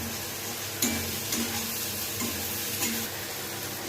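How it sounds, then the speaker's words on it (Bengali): Long slices of eggplant fry in oil in a wok, making a continuous soft sizzle broken by a few light stirring scrapes, close by and without voices. "এবার কড়াইতে যে তেলটা আছে ওই তেলটার মধ্যে দিয়ে দেব বেগুনকে লম্বা লম্বা করে কেটে ধুয়ে নিয়েছি।"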